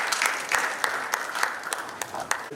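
Audience applause at the Town Planners Day 2025 conference of the Nigerian Institute of Town Planners, FCT Chapter, with sharp claps scattered over a steady patter of hands, moderately loud and held for a couple of seconds.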